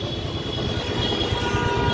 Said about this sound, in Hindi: ये चल रही है हमारी मेट्रो ये अक्षरधाम मेट्रो स्टेशन है